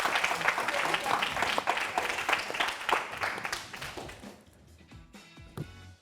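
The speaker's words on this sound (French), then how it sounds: "Applaudissements pour elle déjà." An audience on a live midday TV show applauds, dense clapping for several seconds that fades out, with a voice over it.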